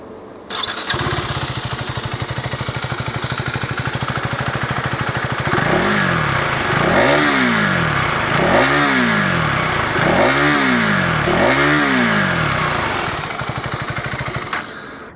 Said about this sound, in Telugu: ఒక్కసారి బండి న్యూట్రల్లో ఉన్నప్పుడు ఎగ్జాస్ట్ నోట్ ఇచ్చేస్తాను.